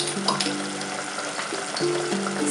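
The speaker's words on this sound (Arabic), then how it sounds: "غادي ندير المقله باش نقلي الدنجال" Eggplant frying in a pan: a steady close crackle of oil with some watery bubbling, continuous through the whole moment with no talking.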